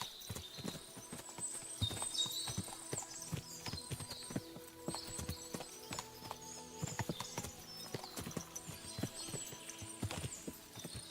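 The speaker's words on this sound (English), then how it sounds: "What a lot of horses!" Horses in Kingdom Come: Deliverance 2 clip-clop steadily in an irregular, overlapping rhythm from several animals nearby, with a faint whinny and some background ambience.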